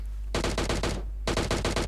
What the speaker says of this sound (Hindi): ये ऊपर से फायरिंग का आता है